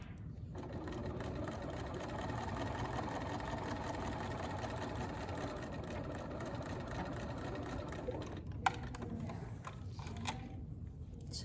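A sewing machine stitches a gusset straight across a chalk line, a close steady whirring run for several seconds that winds down into a few light clicks and handling noises at the end.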